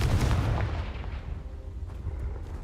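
A Confringo fire spell cast in Hogwarts Legacy bursts out as a heavy, booming blast with a rumbling, crackling tail that fades over a couple of seconds.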